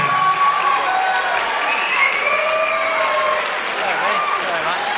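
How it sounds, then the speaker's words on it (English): A boxing crowd at a women's bout applauds with dense, sustained clapping and cheering, while a ring announcer talks over it. "How about a big round of applause"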